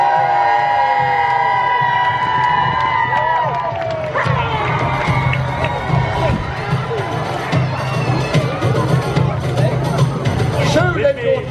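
A large crowd at a Wars of the Roses show at Warwick Castle cheers and shouts loudly, whoops and voices swelling into a continuous roar, with children's cries mixed in.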